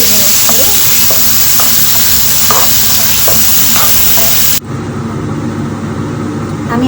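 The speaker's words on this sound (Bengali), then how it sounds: "হালকা করে একটু ভেজে নেব যাতে একটু সফট হয়ে যায়" Loud, steady sizzling of food frying in a pan, with intermittent scraping strokes of stirring; the sizzle drops abruptly near the end.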